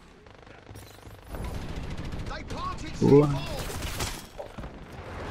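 Gunfire in the online shooter Dirty Bomb: rapid bursts and single shots, some close and loud, under excited commentary from a player.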